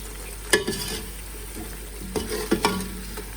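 Masala for beef paya frying in oil, a steady close sizzle broken by a few sharp scrapes and clinks of a spoon stirring the pan, with no talking.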